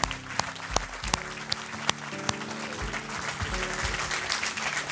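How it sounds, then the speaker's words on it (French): Applause from a conference audience at an opening session on web series, a broad wash of clapping with a few sharper claps standing out, fairly steady throughout while background music with sustained tones plays underneath. "On peut les applaudir, s'il vous plaît."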